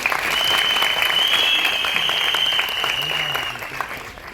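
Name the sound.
audience applause at film teaser event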